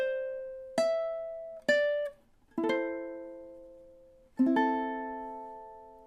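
Ukulele plays measure 4 of a Japanese-inspired song from Avatar: The Last Airbender as four separate plucked notes and chords, each ringing out and decaying, close and clear with no voices.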